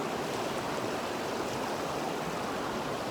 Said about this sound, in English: So let's swirl this back and put some fresh water in it.